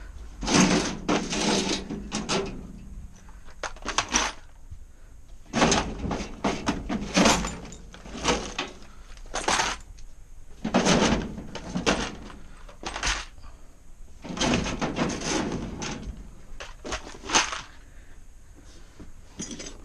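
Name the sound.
work van shelving drawers opening and closing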